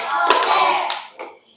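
Hand claps from a children's counting song: a few sharp claps in quick succession, close and fairly loud, followed by a short fading tail.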